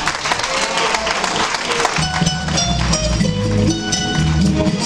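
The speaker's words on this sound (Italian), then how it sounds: "Le accogliamo allora con un grandissimo applauso" Audience applause mixed with crowd noise and music, with a steady beat entering partway through; loud and continuous throughout.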